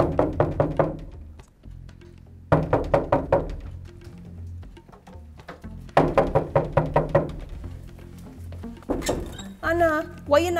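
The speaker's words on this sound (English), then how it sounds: "knocking down my door" Knocking on a door in a radio drama: three clusters of sharp, hollow raps, each a quick series of strikes, with tonal background sound between them.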